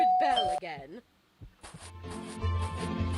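A ding-dong doorbell chimes in the Scary Teacher video game, ringing loud and clear early on, followed by a short pause and then game sounds and speech.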